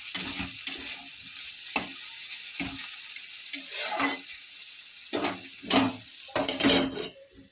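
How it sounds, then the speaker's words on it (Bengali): Bitter gourd and potatoes fry in a pan with a steady close sizzle, broken by repeated stirring and scraping strokes that come in uneven bursts. "করলা আলু ভাজা হচ্ছে আর ফুলকপির ঝোল আজকে এটুকুই"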